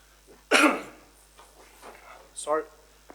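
One sharp, close cough bursts out during a council meeting, followed by a softer throat sound and a short vocal noise a moment later.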